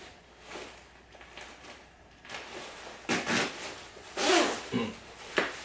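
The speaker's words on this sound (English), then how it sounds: "let me try to zip this up real quick" A zipper runs up a Nobis Cartel bomber jacket in several short, rasping pulls, close and fairly quiet, with the strokes growing louder toward the end.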